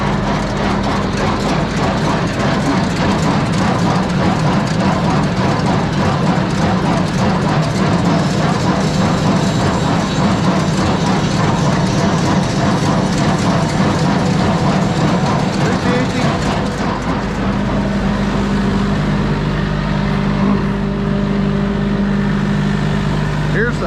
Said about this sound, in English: The baler has to be running to do this.